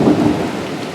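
A loud rolling rumble of thunder with steady rain in a storm outside, a broad low roar that swells early and then eases slightly over the short span, no talking.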